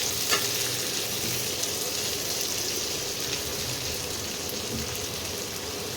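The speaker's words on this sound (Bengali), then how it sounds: "পেঁয়াজগুলোকে একটু ভেজে নিতে হবে।" Chopped onions fry in a pan with a steady, even sizzle that holds for several seconds, close and continuous, with a few faint clicks and no voices.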